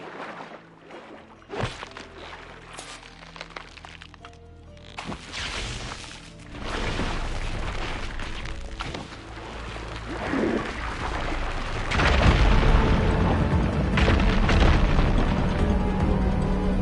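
A fire gleam ignited in Horizon Forbidden West blows apart a pile of rubble, a booming blast that swells into a long, loud rumbling crash and debris wash, with softer ambient game sounds beforehand.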